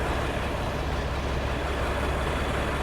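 Bus engine idling at night, Mercedes or Hino type, a steady, dense low rumble with broad hiss that holds evenly throughout, close and unchanging.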